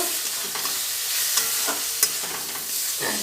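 Chana masala with amchur powder sautéing in a pan, a steady close sizzle broken by several scraping stirs of the spatula, with no voices.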